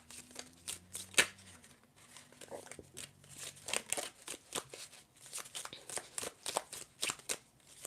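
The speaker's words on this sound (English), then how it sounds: "I'm going to shuffle some tea leaf cards" Tea leaf oracle cards are shuffled by hand at close range, giving a long run of quick papery riffles and soft slaps with an uneven rhythm, moderately quiet, with a faint low hum at the start.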